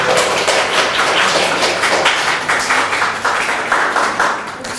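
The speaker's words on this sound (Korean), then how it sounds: "박수 한번 칠까요?" A church congregation at a Sunday worship service in Singapore claps hands together, a loud, close, continuous wash of clapping with a rhythmic pulsing, gradually easing toward the end.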